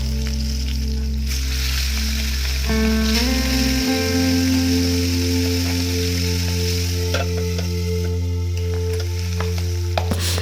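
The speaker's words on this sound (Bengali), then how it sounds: "আর একইভাবে বাকি মাছটাও ভেজে নেব" Catfish pieces frying in hot oil in a covered pan, a steady loud sizzle and crackle with a low hum underneath, the tone shifting partway through as the frying continues.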